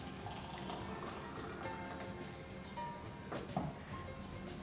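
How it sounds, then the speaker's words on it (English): Hot water poured over peppermint herbal tea leaves in a cup, a soft continuous trickling stream heard close but faint, with a small clink near the end and no talk. "To that, we'll be adding hot water."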